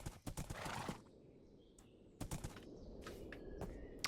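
A Minecraft horse whinnies and clops its hooves in short, quiet bursts separated by gaps, with a faint ticking of other game sounds in the background.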